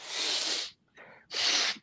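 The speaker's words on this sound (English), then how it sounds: "Sorry to blow my nose." A person blows their nose close up in two loud, breathy bursts separated by a short, quieter snuffle, ending with a brief final puff.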